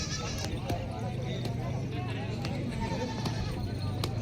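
Goats at a busy village goat market in Bolda, Kalamnuri taluka, Hingoli district, bleat now and then amid constant crowd chatter and nearby voices.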